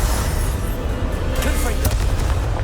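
Bombarda explosion spell cast in the video game Hogwarts Legacy: a booming blast amid a dense, continuous wash of game combat noise, with a sharp burst standing out near the end.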